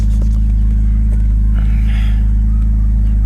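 A BMW E46 widebody project car idling with a heavy, droning low rumble, loud and close, with only a slight lift in engine pitch partway through rather than a sharp rev.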